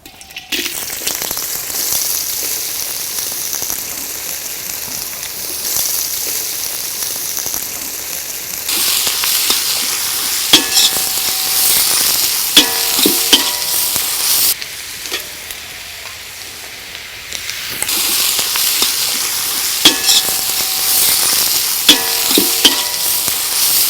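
Onions dropped into hot oil in a pan for a Kadaknath black chicken curry, sizzling loudly and continuously while a spoon scrapes and stirs in bursts.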